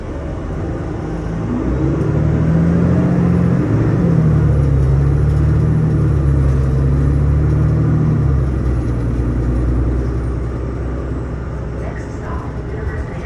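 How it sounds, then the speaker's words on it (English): A TTC 506 Carlton replacement bus in downtown Toronto drones from inside the cabin, its engine rising in a steady low hum, holding, then easing off, with a faint whine above. "What interests you the most about this bus ride?"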